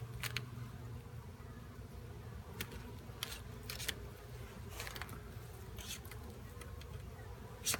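Honey bees buzz around an opened hive during an inspection after being shaken off the comb, a steady insect drone with occasional louder passes close by, no talking.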